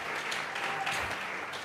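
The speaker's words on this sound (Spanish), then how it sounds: "Vamos a regalarle ofrenda de palmas al Dios de la gloria." Church congregation clapping together as an offering of praise, a steady dense wash of applause throughout, moderately loud in a reverberant room.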